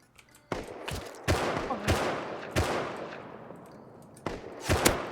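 Gunshots ring out in the survival video game Rust, several sharp loud reports fired in short irregular bursts, with a faint voice in the background.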